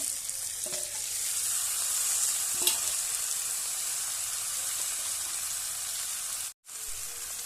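Fish frying in a pan of hot oil gives a continuous bright sizzle, with a couple of faint clinks and a brief dropout near the end, close and steady without talking.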